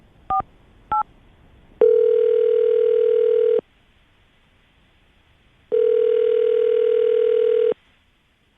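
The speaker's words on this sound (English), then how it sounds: "all right, Aaron, we're going to call her right now, see if we can get her on the phone and get your second date update, okay?" An outgoing telephone call: two quick touch-tone dial beeps, then two long electronic ringback tones separated by silence, clean and close on the line.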